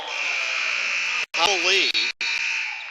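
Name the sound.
basketball game buzzer at end of period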